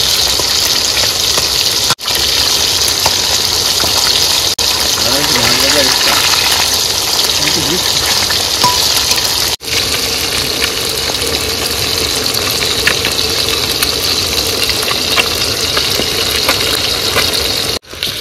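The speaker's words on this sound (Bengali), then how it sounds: "প্রথমবারে কিন্তু মাছ ভাজা হয়ে গেছে।" Fish fry in hot oil with a continuous, loud sizzling hiss that holds steady throughout, with a brief stretch of background talk partway through.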